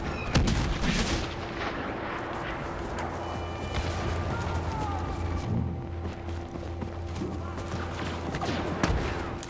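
Blaster fire crackles through a Star Wars Battlefront battle, repeated sharp shots and distant booms layered over a steady rumbling game soundscape, moderately loud throughout.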